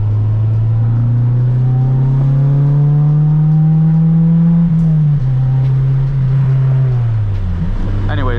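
Acura Integra engine running steadily while driving, a loud sustained hum that rises slightly in pitch, dips as if shifting, then settles lower near the end, with no talk over it.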